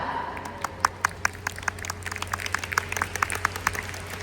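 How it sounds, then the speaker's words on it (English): An audience claps at a Young Living Taiwan ninth-anniversary event, producing a thin, scattered round of individual handclaps that builds slightly and stays loose and uneven, with no voices. "Why don't we give it a clap?"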